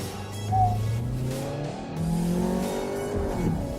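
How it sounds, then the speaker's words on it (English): A VW Tiguan Allspace in S mode makes a launch control start from about 3000 RPM. The engine is loud and close, and its harmonics climb steadily through two gear pulls with a brief dip near the change. No one speaks. "put your left leg on the brake, right leg on the accelerator, rev all the way up to 3000 RPM"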